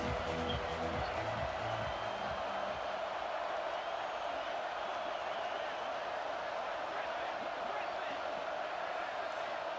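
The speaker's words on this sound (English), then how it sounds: "This crowd trying to make life miserable for this offense." Stadium crowd in EA Sports College Football 26, a steady dense roar of cheering and noise from a large audience at a college football game, loud and continuous throughout without letup.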